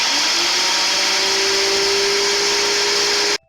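A kitchen blender pulverizing onions runs steadily at high speed for about three seconds with a loud, even whirring drone, then cuts off abruptly.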